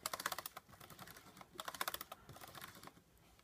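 Computer keyboard keys tapped in quick clusters, with a pause and then further bursts of clicking, ending in a press of the enter key. The clicks are close and crisp, and no one speaks.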